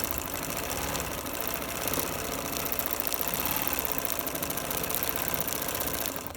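A quilting machine stitches a stippling pattern in multicolored thread on a Drunkards Path queen quilt, a continuous close mechanical whir with fast needle chatter and a low motor hum throughout, no talk.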